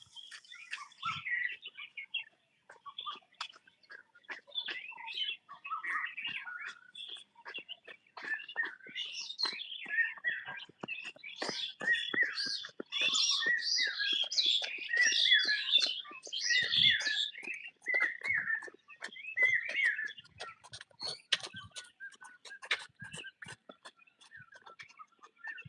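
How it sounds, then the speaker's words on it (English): Tiny birds feeding on fruits give soft, scattered chirps and high tweets at close range, faint and intermittent with small rustles between the calls, building into a denser twittering chorus midway through. "Tiny birds feeding on the fruits."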